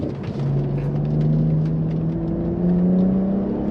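BMW X4 M40i accelerating hard on a dry road, its exhaust droning and climbing steadily in pitch, with a brief dip and resurge, loud and close throughout.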